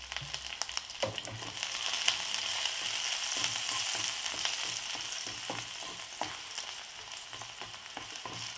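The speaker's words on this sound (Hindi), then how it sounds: "ऑयल यानी कि तेल गर्म होने के बाद इसमें हम ये अदरक और लहसुन हमने रफली कट किए हैं" Steady crackling sizzle of roughly cut ginger and garlic frying in hot oil, with occasional sharper pops and spatters, close and continuous throughout.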